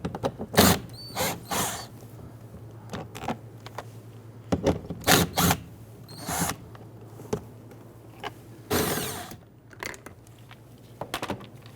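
On a 2008–2013 Infiniti G37 side mirror, 10mm bolts are loosened and removed, giving close, quiet bursts of ratcheting clicks and creaks separated by short pauses, with no talk.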